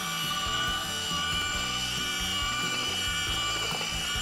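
Power drill fitted with a mixing paddle churning cement mortar, a continuous close-up motor drone with uneven, lurching low tones as the load shifts in the mix.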